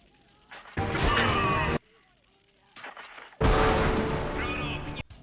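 Two loud, sustained blasts from explosive arrows in Crysis 3, each about a second long, separated by a quieter stretch of low rumbling and faint game sounds.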